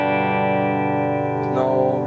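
Clean-channel electric guitar on a Marshall JVM 410H, bridge pickup, played straight into the amp with no reverb or effects: a sustained ringing chord held loud and steady, then freshly strummed near the end.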